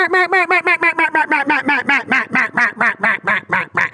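A single reed duck call imitating a mallard hen runs a rapid, steady series of about twenty loud, evenly spaced quacks, descending in pitch through the sequence, close and alone with no talk.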